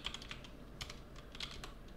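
Quiet clicks of a computer keyboard as a short terminal command is typed, a handful of light irregular keystrokes close by with no talking.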